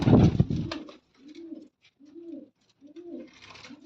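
Pigeons of a prized bloodline coo in a home loft, several soft rolling calls in separate bursts after a louder noisy start, close and clear with no talking.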